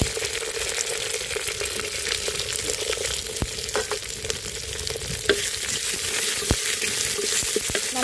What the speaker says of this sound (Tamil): நல்லா வந்துட்டு வதக்கிக்கலாங்க